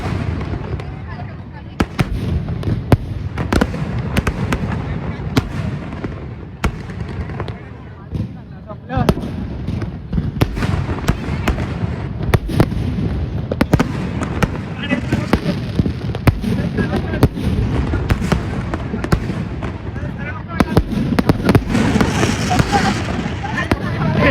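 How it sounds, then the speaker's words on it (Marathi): Firecrackers burst repeatedly in sharp, loud cracks and pops at Dadar Shivaji Park's fireworks show, Mumbai, over a steady crowd din, with people talking and shouting throughout. "भाई फटाके खालतीच फुटत"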